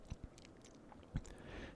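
Chocolate candy with a soft crunch being bitten and chewed close to the mic: quiet, wet chewing with a few louder crunchy bites, intimate and near.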